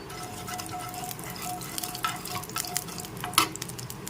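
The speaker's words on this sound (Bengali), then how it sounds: "এবার দিয়ে দিচ্ছি বাকি তেলটা কালো জিরে ফোড়ন দিয়ে দিলাম" Black cumin seeds tempering in hot oil, a soft continuous sizzle with light stirring scrapes and one sharper clink near the end, close and fairly quiet, with no voices.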